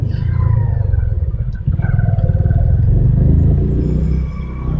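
Motorcycle riding captured from a helmet chin-mounted GoPro: a loud, steady low engine drone with pulsing throb and wind buffeting, briefly dipping then resuming, no speech.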